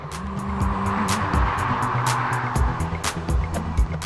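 A Volkswagen Golf accelerates hard, its engine roaring loud and close. Tyre and road noise rise under the sustained drive, with a few sharp peaks near the end.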